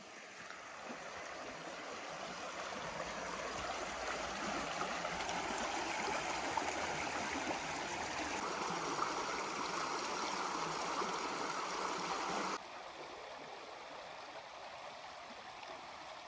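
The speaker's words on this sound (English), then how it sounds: "Here's some running water." Steady rushing of running river water fills the whole recording, close and even, with a slight drop in level near the end.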